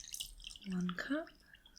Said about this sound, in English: 2 cups of water now.